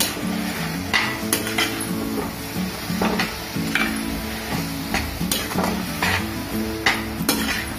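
Gongura leaves fry in a pan with turmeric and cumin, a continuous sizzle broken by repeated loud scrapes and clinks of a spatula against the pan at an uneven rhythm.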